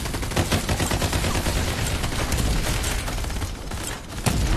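Sustained automatic weapon fire from the shooter game Farlight 84, with dense, loud, continuous bursts of shots rolling on for several seconds and no talk.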